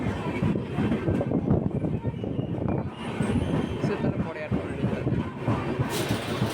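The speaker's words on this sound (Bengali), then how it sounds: "আমাদের ট্রেন এখন সাঁতরাগাছি ছেড়ে দিল।" The 22897 Kandari Express pulls out of Santragachi Junction, heard from on board with a continuous rumble of the carriages, wheels clattering on the rails and metallic squeals, while people talk nearby.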